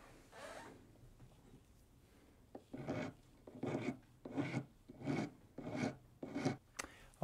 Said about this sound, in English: I can take the wax file and I'll just file to the line